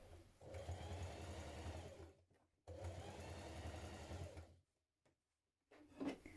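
A sewing machine stitches across the bottom of a tote bag's lining pieces in two steady bursts of rapid mechanical whirring, each about two seconds long, separated by brief pauses, followed by a short handling sound near the end.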